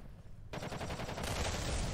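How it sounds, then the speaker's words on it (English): Gunfire in the video game Kerbal Space Program with BD Armory, a sudden burst of rapid automatic shots that starts after a quiet moment and keeps rattling steadily, fairly faint overall. "gunfire's going in."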